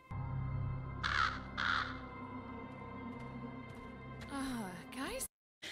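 Crows caw in an animated fantasy show, with two loud harsh calls standing out over the show's background sound and music. Other voices and effects follow.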